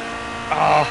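A Ferrari F355 Challenge race car slides in Project Cars 2, its engine buzzing in a steady harmonic drone that swells into a louder rasping burst halfway through the brief moment.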